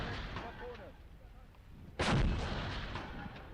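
A field howitzer fires once in the war game Graviteam Tactics, a single loud close boom that rolls into a long fading rumble, after quieter low background battle noise.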